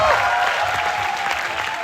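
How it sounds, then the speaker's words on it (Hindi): Steady audience applause fills the room, a dense wash of clapping that holds at an even, loud level throughout. "तालियां थोड़ी कम बजी, अब थोड़ी और तालियां चाहिए"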